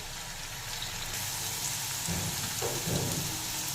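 Shredded potatoes deep-frying on high flame in a Bengali jhuri aloo bhaja, a dense, steady hiss and crackle that holds at an even level throughout with no voices.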